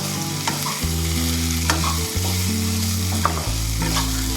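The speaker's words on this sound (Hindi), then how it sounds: "इसको मसालों के साथ में अच्छे से मिक्स करते हैं" Soybeans being stir-fried with spices in a pan for a high-protein lunch dish, a steady close sizzle with a spatula scraping and stirring in short strokes, a low background hum underneath, no voices.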